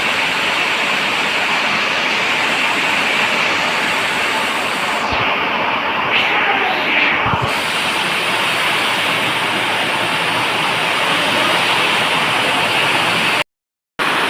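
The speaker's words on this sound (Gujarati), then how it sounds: "કેવી રીતનો વરસાદ તો જોવો" Heavy rain on the Panera hills, a steady dense broadband roar of downpour and running water that stays loud and constant, with a brief dip in the middle and a short cut near the end.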